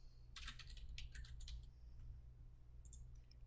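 Quiet typing on a computer keyboard, short clusters of soft, close keystrokes with a pause between bursts over a low steady hum, and nobody speaking.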